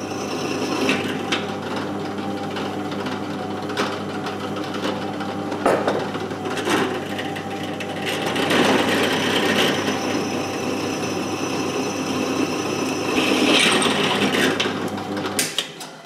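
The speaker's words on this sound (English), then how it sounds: "Making sure to remove any burr if there are any left." A hand file scrapes burrs off freshly drilled metal steering parts for a Super 7 Locost car build, repeated rasping strokes, close and steady, with a machine hum running beneath.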